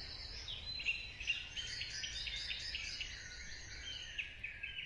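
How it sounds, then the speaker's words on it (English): Dawn chorus of birds at first light, many high chirps and trills overlapping in a continuous, moderately distant wash against a quiet background. "It is the dawn chorus, the burst of bird song right at the start of the day, birds warming up their voices"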